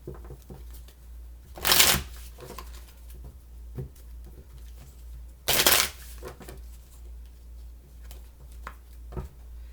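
Two quick bursts of cards being riffle-shuffled, separated by soft handling taps and rustles, close by in a quiet room.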